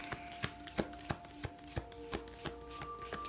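Tarot cards are shuffled close by in a soft, even rhythm of papery slaps about three per second, quiet and alone with no talking.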